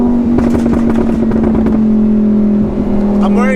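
A Lamborghini Huracan LP-610 with an SSR Performance Race exhaust, heard from inside as the engine drones loud and steady with a few sharp rev pulses near the start.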